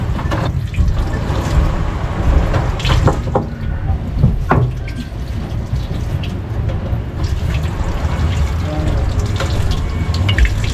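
Water runs and splashes steadily from a boat engine as it drains, with a few knocks and clicks of handling, no voices, continuous throughout.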